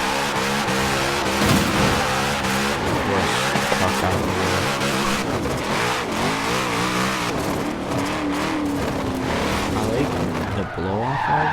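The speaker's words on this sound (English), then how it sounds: "Blow-off valve in this car," A customised drift car with a Rocket Bunny body kit in Forza Horizon 4 revs hard, its blow-off valve whooshing amid continuous loud tire squeal and engine roar, with someone talking over it throughout.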